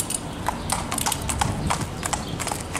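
Hooves of a broad, compact gray school horse clip-clop steadily on the ground, a close, even rhythm of sharp strikes with no voices over them.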